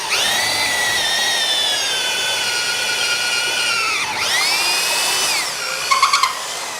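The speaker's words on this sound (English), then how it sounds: "you just drill the hole with your bit that you're going to bore your hole with" A drill bores a hole in hardwood with a brad point bit, its high motor whine holding steady, dipping in pitch under load, then recovering before winding down with a few clicks.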